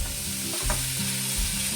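Potatoes and tomatoes sizzle loudly in a kadai after a splash of water is added, a steady crackling fry with brief stirring scrapes and clinks of the spoon partway through.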